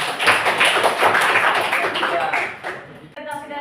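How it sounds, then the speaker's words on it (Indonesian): A class gives group 2 a round of applause, dense clapping that fills the room for about three seconds before tailing off. Faint voices sit beneath the clapping. "Oke, tepuk tangan dulu untuk kelompok 2."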